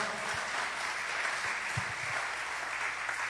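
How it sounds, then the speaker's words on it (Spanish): A church congregation applauds the Lord in a steady, dense wash of clapping that holds evenly throughout, fairly distant and uniform, with no voice rising above it. "Alguien dale un aplauso al Señor"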